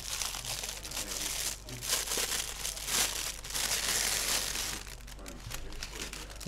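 Packaging of a Fujifilm 56mm f1.2 portrait lens opened close up, a continuous crinkling and rustling of plastic and paper with a few louder crackling bursts, no talking.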